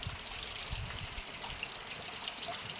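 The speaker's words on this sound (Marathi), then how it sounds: "आज तर सतत सकाळपासून लगातार पाऊस चालू आहे" Steady rain falls over farm fields during a days-long downpour in Jalna district, a continuous soft hiss and patter with close faint drips and no voices.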